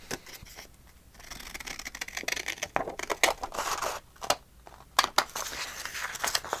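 Scissors cut through scrapbook paper in a quiet series of crisp snips and crinkles, with irregular sharp clicks spread over several seconds and no voices.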